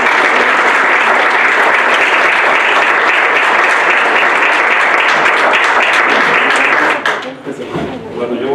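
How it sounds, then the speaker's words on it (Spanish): A loud, dense burst of audience applause greets a doctor arriving to give a talk, sustained for about seven seconds before thinning out into scattered claps and room noise. "Le brindamos un fuerte aplauso, por favor, al doctor"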